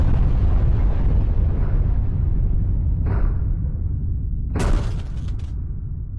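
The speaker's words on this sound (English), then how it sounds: "Oh shit, it was a bomb." A bomb blast in the video game Not for Broadcast, a loud, sustained roaring rumble that fades over several seconds, then a sharp secondary burst near the end, with no voices.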